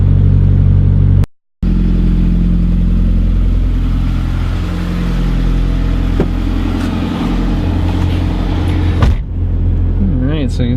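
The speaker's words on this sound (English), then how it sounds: "you can see the idle is dying down a little bit" A Nissan Pulsar engine idles after warming up, a steady loud drone with a brief cutout early on and a small wobble near the end, heard close without speech.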